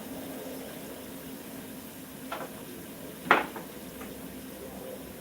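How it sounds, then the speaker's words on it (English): A lid settles onto a cooking pot with one clear metallic clink, preceded and followed by fainter taps, over a low steady background hiss in a kitchen. "Cover our pot and let them simmer."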